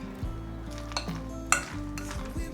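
A vegan filling of flour, cornstarch and sugar stirred in a bowl with a teaspoon of sesame oil, making soft, wet scraping with a few light spoon clinks against the bowl, close and unaccompanied by speech.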